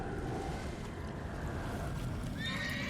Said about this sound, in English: Got a hungry horse.